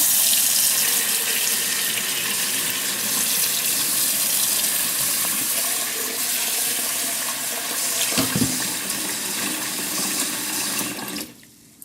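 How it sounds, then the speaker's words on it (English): Water from a kitchen tap runs steadily into a pot of rice for rinsing, a continuous close splashing hiss that cuts off near the end. "We're going to fill the water up to above our rice level."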